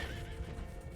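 A cavalry horse in the video game Battlefield 1 gives a brief whinny over a dense, rumbling battlefield din, close and fairly loud with no talk.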